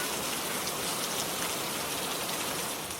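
Steady rain pours down in a dense, even hiss of drops striking surfaces, constant and close for the whole three seconds with no pauses.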